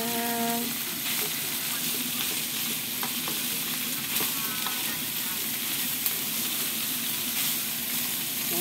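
Bitter gourd (ampalaya) sautéing in a pan, with a steady close sizzle and frying hiss throughout and faint stirring clicks, no talking.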